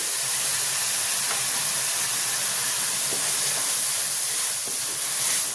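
Green chillies sizzle and fry in hot oil with onions in a pan, a steady close hiss with faint crackles running throughout, no voices.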